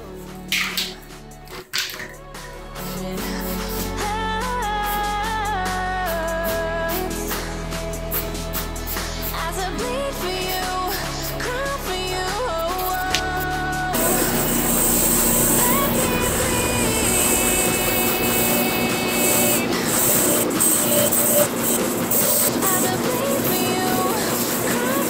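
An aerosol can sprays onto a bolt while mounting a Honda Civic's front suspension, a long, steady hiss that starts partway through and continues to the end, over background music.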